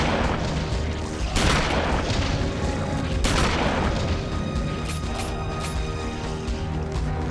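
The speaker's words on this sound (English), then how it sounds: "How's that to start a game? Start you off with a shotgun." A shotgun fires twice in Eternal Darkness: Sanity's Requiem, each blast a heavy boom over a constant droning ambient background, with fainter clicks toward the end.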